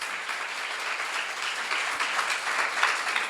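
A church seminar congregation applauding, a dense continuous patter of many hands clapping at steady volume with a slight swell near the end, no voices heard over it.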